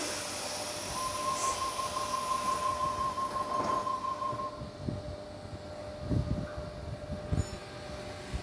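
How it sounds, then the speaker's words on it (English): An afternoon Sydney train bound for Bondi Junction pulls out of Waterfall station, a steady rail rumble with a long sustained tone in the first seconds and irregular knocks and clunks as the cars roll away. "The Bondi Junction service is now departing."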